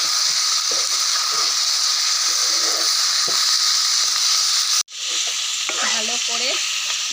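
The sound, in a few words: stir-frying duck meat with lemon leaves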